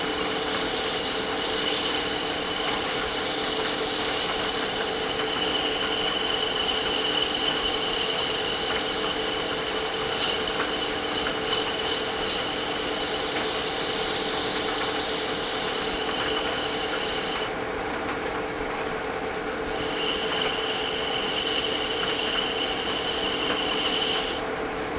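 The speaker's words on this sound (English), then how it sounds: "Generally, you don't want to sand this much." A walnut chess pawn spins on a wood lathe while sandpaper is held against it, a steady continuous whir and rushing abrasion with a high motor whine that drops out briefly near the end before resuming.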